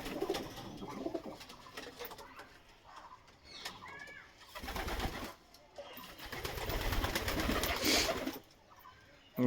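Pigeons coo and flutter close by while they feed and drink at home in bright sun, with soft repeated calls and brief rustles over faint background noise.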